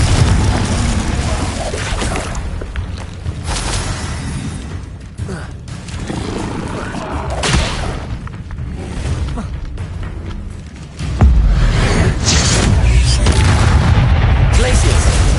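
Confringo explosive spells in Hogwarts Legacy blast again and again, heavy booming impacts arriving in quick succession amid other spell effects and a voice calling out spell names.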